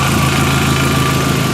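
A race car's engine runs at a steady idle close by, giving a continuous low, even drone that holds the same pitch throughout with no break.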